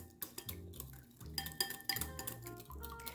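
Spoon clinks and scrapes against a bowl while minced garlic, grated ginger and brown sweetener are stirred into a sauce, quick light clatters in irregular bursts, close and quiet.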